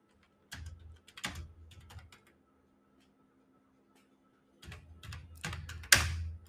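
Computer keyboard typing of a short title: brief clusters of soft key clicks in two bursts separated by a pause, close and quiet, ending with a sharper keystroke.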